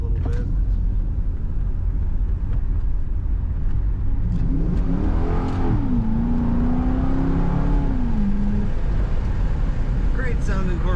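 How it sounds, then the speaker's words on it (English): A 2008 Chevrolet Corvette Coupe engine rumbles steadily, rising into a revving surge midway before settling back, heard from inside the moving car with road noise throughout. "Maybe I'll put the window down and you can see if you can hear the exhaust note a little bit."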